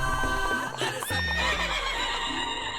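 A cartoon horse ridden by an uncle character lets out a loud, close whinny with a rising, wavering cry over about two seconds, accompanied by faint hoof clatter.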